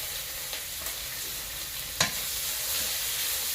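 Dry chili, panch phoron and onion fry in hot oil with a steady, soft sizzle, broken by a few light stirring clinks and one sharper tap.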